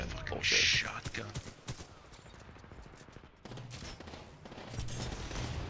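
Devotion light machine gun firing in Titanfall 2 multiplayer on Xbox One, a sharp burst near the start followed by scattered shots and rattling gunfire amid game noise and talk.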